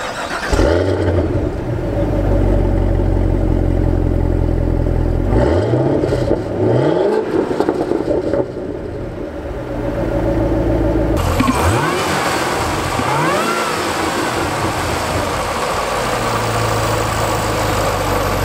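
A 2017 Cadillac CTS-V's supercharged 6.2-liter small-block V8 fires up and idles, then is blipped through several sharp revs that rise and fall, loud and close, with a steady rumble between pulls.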